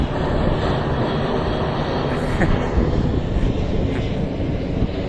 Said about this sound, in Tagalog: Usually alam ko yung mga aeroplano.